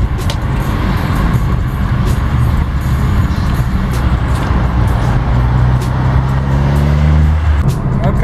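A car drives along the M3 road in Cape Town during a breakfast run, its engine and tyre roar steady and loud throughout with some rising engine tones near the end.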